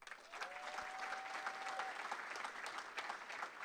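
Audience applause at a military retirement ceremony, steady clapping throughout, moderately loud and continuous with a faint tone passing briefly early on.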